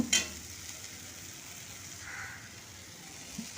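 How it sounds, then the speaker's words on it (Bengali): Masala for an egg and potato dalna being fried in oil, a faint, even sizzle close by with a couple of brief clinks from stirring. "যতক্ষণ না মশলা থেকে তেল ছাড়ছে ততক্ষণ এটা কষে নেব"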